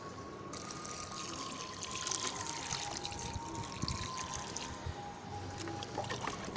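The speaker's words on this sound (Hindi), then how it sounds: "इस तरीके से दोस्तों इसमें पानी डाल देंगे" Water is poured onto a potted turmeric plant at home, making a steady trickling and splashing stream that stays fairly even at close range for several seconds, with no voice over it.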